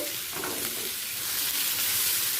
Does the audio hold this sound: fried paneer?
yes